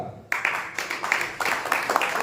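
Audience clapping bursts in abruptly after a brief quiet moment and carries on as a moderate, uneven patter of many hands to the end.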